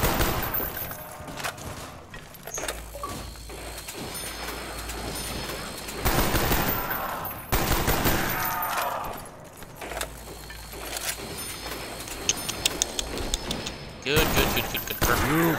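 Gunfire rattles in the video game Call of Duty Black Ops, with repeated bursts of shots spread across the span, some sharp close cracks and some rapid volleys, mixed with game noise.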